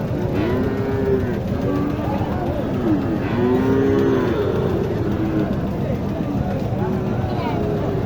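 A large crossbred heifer at a busy cattle market in Naogaon district lets out several drawn-out moos in succession, loud and close, over constant crowd chatter and background bustle.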